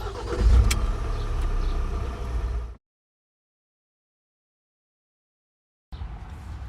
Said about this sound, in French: il vous faut démarrer le véhicule en débrayant et tournant la clé